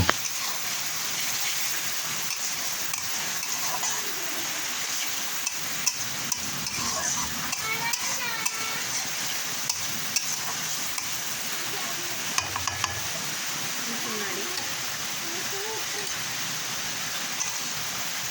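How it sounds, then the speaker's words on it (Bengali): Chili and turmeric masala frying in a pan for a duck curry, a dense, steady sizzle like rain with occasional soft spatula scrapes and taps, close up, with faint voices at times. "পরিমাণ মতো মরিচের গুঁড়া এবং হলুদের গুঁড়া দিয়ে দেব। মশলাটা ভালো মতো কষিয়ে নেব।"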